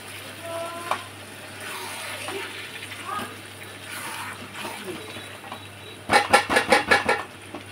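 Onions are stir-fried in a pan at home, a moderate sizzle under occasional speech, ending in a burst of rapid scraping clatter from a spatula against the pan.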